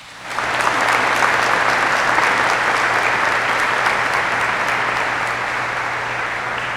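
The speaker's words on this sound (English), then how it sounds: "Please join me in a round of applause for this outstanding team." A graduation ceremony audience breaks into sustained applause, starting abruptly and holding as dense, even clapping from a large crowd for several seconds.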